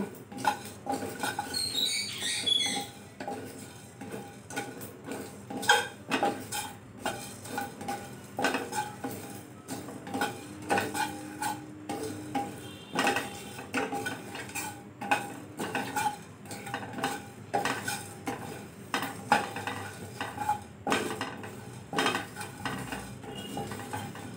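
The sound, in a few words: dry roasting cumin, coriander seeds and black peppercorns in pan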